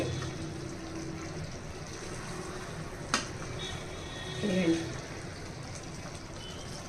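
A curry simmers in oil in a pan, with a faint, continuous low sizzle and bubbling and a brief clatter near the middle, while a voice talks over it.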